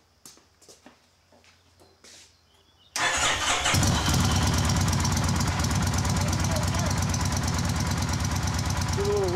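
A motorcycle engine, tested with a Tanner Two tester, cranks and catches after a quiet stretch of faint talk, then settles into a loud, steady, close idle with a rough pulsing rhythm.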